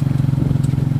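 A motorcycle engine warms up at idle, a close, steady low thrum with an even pulsing beat.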